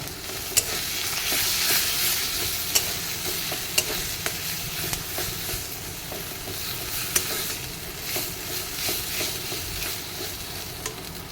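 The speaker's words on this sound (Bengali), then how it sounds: "তারপর দিয়ে দিচ্ছি আধা চামচ আদা পেস্ট, আধা চামচ রসুন পেস্ট দিয়ে আরেকটু কষিয়ে নেব।" Ginger and garlic paste sizzles while being sautéed in a pan, with a constant bright frying hiss, clear spatula scrapes and taps at uneven intervals, and no talking.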